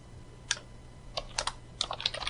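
Python code comment being typed on a computer keyboard, a short run of light, irregular key clicks that quicken toward the end, close and quiet.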